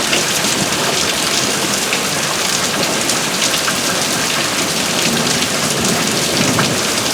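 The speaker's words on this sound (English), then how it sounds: "And it's one heck of a good thunderstorm." Heavy rain pours down steadily during a severe Tornado Alley thunderstorm at night, a dense, loud, continuous hiss with wind mixed in and no voices.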